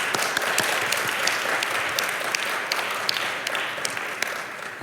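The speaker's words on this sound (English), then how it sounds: "a round of applause for all the terrific presenters today" Conference audience applauds workshop presenters, a steady patter of many hands clapping at moderate distance with a few sharper individual claps standing out, continuing evenly throughout.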